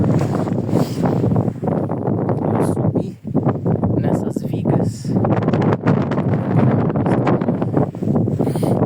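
Strong wind gusting across a high, narrow perch in the mountains, buffeting the microphone in heavy rumbling bursts while someone talks over it.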